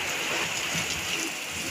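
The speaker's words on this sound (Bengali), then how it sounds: "বাইরে এত পরিমাণ বৃষ্টি হইতেছে" Heavy rain pours outside a village home, a dense, steady hiss of downpour heard from indoors, continuous and unbroken over the short stretch.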